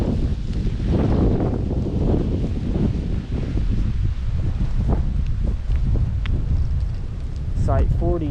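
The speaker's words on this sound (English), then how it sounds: "That wind is really making it feel like it's a lot colder than what it is today." Wind gusts across a lakeside campground loop at Rend Lake, roaring and buffeting the microphone steadily, with a person speaking over the noise.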